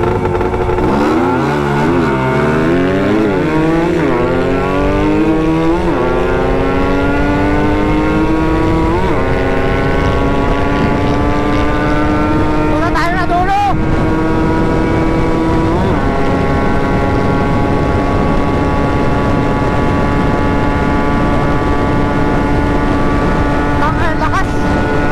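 Two motorcycles, a Honda CBR 150 and a Yamaha RXT-135, rev loudly and continuously at close range, engine pitch sweeping upward with repeated throttle blips and sustained high revs, with voices faintly underneath.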